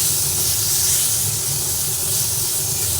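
Tomato and spices fry in a pan on a lowered gas flame while dal is being made, giving an even, continuous sizzling hiss up close with no talking.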